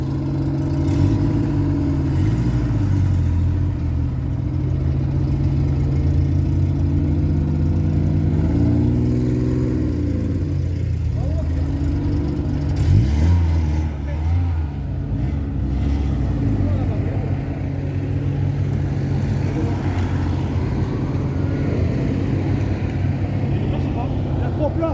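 A Peugeot 205 GTI with a 1.9-litre engine idles and revs at a car gathering at the Tarbes exhibition park. It gives a close, throaty mid-range drone with rising and falling throttle blips, and people chat nearby throughout.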